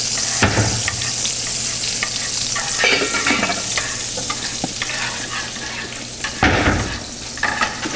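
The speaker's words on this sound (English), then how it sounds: "You can smell the butter cooking?" Butter sizzling in a pan for mac and cheese gives a steady close hiss, broken by a few scraping stirs and clatters of utensils against the pan.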